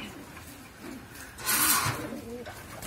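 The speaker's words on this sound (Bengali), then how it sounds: "এই যে এক পেয়ার কবুতর," A pair of pigeons, a male of the 72 line and a female of the Captain Shovon Bell line, coo in a few low, soft, rounded bursts close by, with faint background noise.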